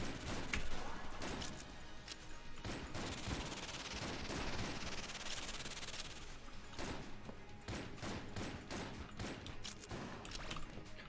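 Rapid, dense volleys from the Big Iron gun in Enter the Gungeon, sharp clustered shots firing in steady bursts, fairly quiet overall with soft talk underneath.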